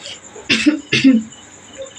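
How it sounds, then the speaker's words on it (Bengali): A child coughs twice in quick succession, short and sharp, close by in a quiet room. "কাশি হচ্ছে কাজ করতে দিচ্ছে না"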